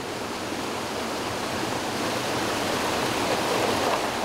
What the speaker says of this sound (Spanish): El agua constituye la fuerza motriz para poner en funcionamiento la pisa.